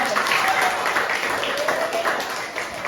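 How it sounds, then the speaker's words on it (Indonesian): A seated audience at an educational presentation applauds with steady, dense clapping heard at moderate loudness, with some speech-like sound mixed in. "Tepuk tangan dulu."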